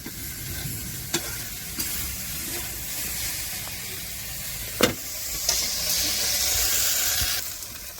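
Steady sizzling and crackling of okra frying in a hot pan, with occasional sharp stirring clinks, continuous and close, no voices.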